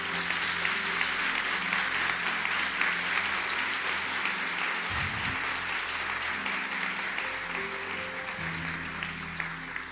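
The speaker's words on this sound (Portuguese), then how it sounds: "Quero que você aplaude a Deus pela fé desse homem aqui." A church congregation applauds during a sermon: steady, dense clapping from a large crowd fills the space without pause, moderately loud and continuous, with a brief low thump partway through.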